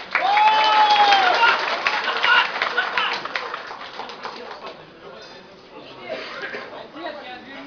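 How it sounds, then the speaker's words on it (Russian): Spectators at an MMA fight in Novosibirsk break into loud applause and crowd noise, with a rising whistle early on, then the clapping thins and fades toward the end. "Давайте взбодрим, как спортсменов,"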